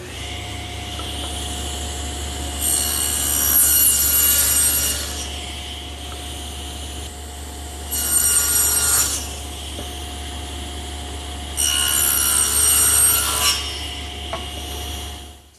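A table saw fitted with an adjustable dado head cuts tenons in wood, with three separate loud cutting passes rising over the steady motor whine, which keeps running between them.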